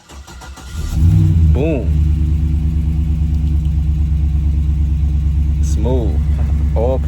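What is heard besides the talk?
car engine cranking and starting, then idling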